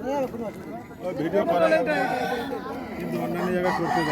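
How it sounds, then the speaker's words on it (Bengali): Large fighting roosters, legs tied before a cockfight at a school anniversary gathering, crow loudly and repeatedly nearby while a crowd chatters and people talk over them. "এই যে এখানে মোরগ"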